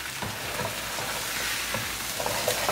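Eggplant and potato sabzi (aloo baingan) frying in a pan on a gas stove, a steady close sizzle with occasional stirring scrapes throughout.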